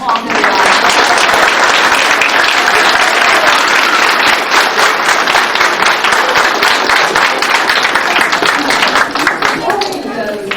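A crowd claps for a graduate at an adult high school and equivalency graduation ceremony, producing loud, dense, sustained applause that fills the whole stretch without a break.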